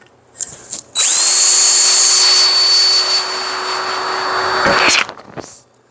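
A loud electric drill whines up to full speed and runs steadily for about four seconds, pitch dipping slightly under load, then spins down.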